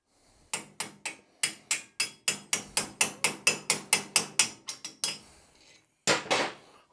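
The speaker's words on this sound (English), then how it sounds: "Let me get a punch and I'll just tap it out." A punch is hammered against a stuck part in a Velocette motorcycle frame during teardown, giving a rapid run of sharp metallic taps, then a pause and one last strike, all close and crisp.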